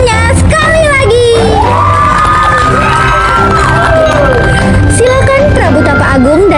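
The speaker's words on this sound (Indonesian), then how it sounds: "Berikan tepuk tangannya sekali lagi." Crowd at a school performance of the Lutung Kasarung story cheers and shouts loudly throughout, with children's high whoops and yells over dense, steady noise, though clapping is not distinct.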